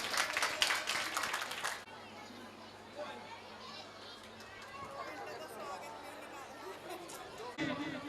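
Children at the closing of a moral-education camp in Bihari Colony burst into loud applause for under two seconds. Crowd chatter follows, then a brief second swell of clapping at the end.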